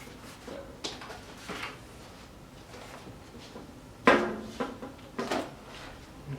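Retractable landing gear on an FMS P-51 model plane cycles with a few faint mechanical clicks and clunks, scattered and brief, with a short whirring stretch partway through and no talking.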